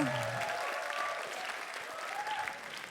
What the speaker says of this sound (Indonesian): Tepuk tangan sekali lagi untuk Agung Motivamor.